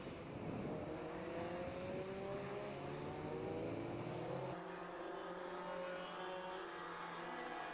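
Honda racing cars at Donington Park sweeping past on the circuit, several engines overlapping with rising and falling whines as they accelerate through, then one engine fading away into the distance.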